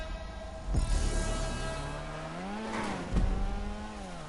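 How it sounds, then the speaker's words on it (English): A Rune Cheburek car engine in Grand Theft Auto 5 idles with a steady harmonic hum, rising briefly in pitch as it revs slightly, with a couple of short thumps. "I love the idle noise of this car."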